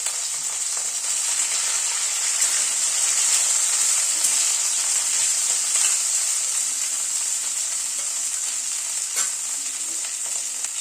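Potato and cauliflower frying together in a pan, a steady close, loud sizzling hiss that runs unbroken throughout with faint stirring clicks.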